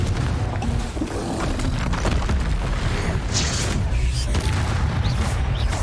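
Confringo blast spells going off during combat in Hogwarts Legacy, a loud continuous rumble of booming explosions that fills the whole stretch.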